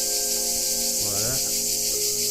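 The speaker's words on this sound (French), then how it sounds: "Eh ben, ça chante fort aujourd'hui. Les cigales." Cicadas sing loudly outdoors, a dense, continuous high buzzing drone that holds steady throughout, with a brief lower rubbing noise midway.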